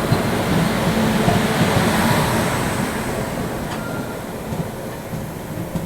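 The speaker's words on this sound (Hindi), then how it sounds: "पुणे कन्याकुमारी एक्सप्रेस की क्रॉसिंग हो रही है कन्याकुमारी पुणे जयंती जनता एक्सप्रेस के साथ" The Pune–Kanniyakumari Express passes the Kanniyakumari–Pune Jayanti Janata Express on a single-line section, a steady loud rumble of rolling coaches and wheels that runs the whole time and eases slightly toward the end.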